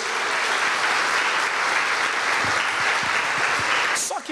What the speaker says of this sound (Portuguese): Aplauda Ele, porque Ele é maravilhoso.